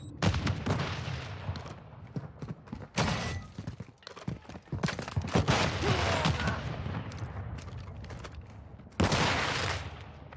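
Gunfire and explosions in Call of Duty: Modern Warfare II (2022) team deathmatch, with loud bursts of shots and blasts in clusters and a sharp grenade-like bang near the end, amid busy game noise.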